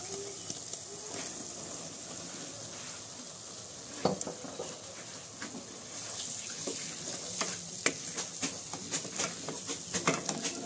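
Pre-fried soybean chunks hitting a hot pan give off a steady, close sizzle and frying crackle, with scattered pops and stirring clicks that grow busier toward the end.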